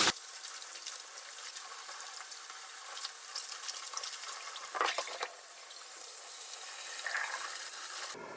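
Perilla leaves are rinsed by hand in tap water, a steady wash of splashing and swishing water with a brief louder slosh midway, close and without talk.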